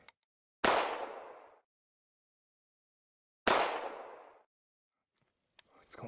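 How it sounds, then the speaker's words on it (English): Two loud, sharp gunshot bangs fired at a locked door in a Lego short film, spaced about three seconds apart, each with a short decaying tail, followed by faint shuffling. "I'll try shooting it."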